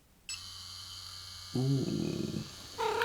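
A Bishop Wand shader tattoo machine runs at about 8.4 volts with a steady electric hum, then shifts to a lower purring buzz. A brief spoken exclamation comes near the end.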